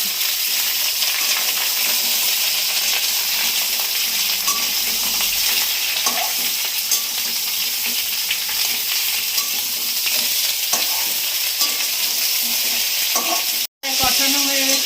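Sliced ridge gourd and slit green chillies sautéing in oil with ginger paste in a pan, giving a loud, steady sizzle and crackle with occasional stirring scrapes that continue throughout, broken by a brief dropout near the end.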